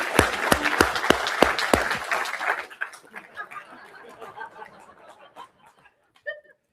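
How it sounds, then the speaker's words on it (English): Audience at a heated political debate applauding in a burst of dense clapping that fades after a few seconds into scattered claps, chuckles and murmured chatter. "Can we give him a good round of applause?"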